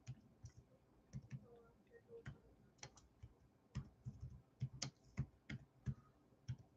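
Quiet, fairly close typing on a computer keyboard, with irregular bursts of light key clicks through the whole stretch.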